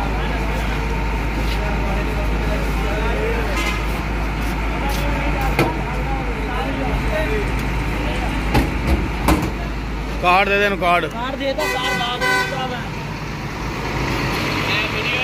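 A Usman Coach bus bound for Sialkot runs with a steady low engine drone and road rumble, loud and continuous throughout, while people talk nearby over it.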